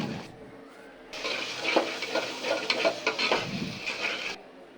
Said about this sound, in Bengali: এখন মশলাটা কষানো হবে।